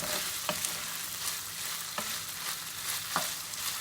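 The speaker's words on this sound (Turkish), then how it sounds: "Karıştırarak yine biraz daha bu şekilde kavuracağım." Chicken sautéing in a pan with vegetables, giving a continuous sizzle broken by three sharp scraping clacks of a utensil stirring the meat.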